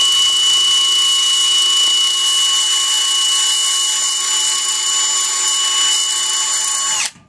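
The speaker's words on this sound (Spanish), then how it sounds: "Aquí lo que yo le recomiendo es darle una lijada a las balatas, porque estas balatas se ven cristalizadas" Power sander abrading glazed brake pads, a loud, steady high-pitched whine held for about seven seconds with a constant tone, then cutting off abruptly at the end.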